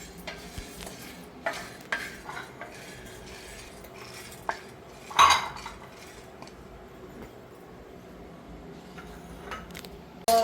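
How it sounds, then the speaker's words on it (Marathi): Split chickpea lentils, chana dal, dry-roasting in a home kitchen pan, with soft intermittent scraping and stirring clinks of a spoon against the metal and a louder clatter midway, over a quiet background. "डाळ घेतली मम्मीने भाजायला हरभराची"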